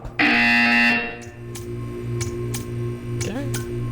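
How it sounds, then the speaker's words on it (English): A loud electronic buzzer from the Portal 2 video game sounds in a single sustained burst of about a second, followed by low hum and faint clicks while a synthetic voice talks. "You will hear a buzzer. When you hear the buzzer, stare at the art."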